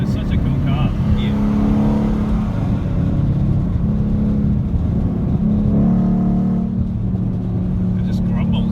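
A Ford Mustang GT's V8 exhaust grumbles in a steady, deep, close rumble with slight swells in revs, while people talk inside the car over it.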